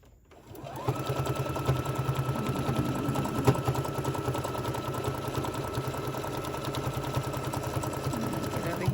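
Sewing machine stitching a tote bag seam, starting after a brief pause into a fast, steady mechanical whirring and rapid needle chatter, close and continuous with slight speed changes during back-stitching.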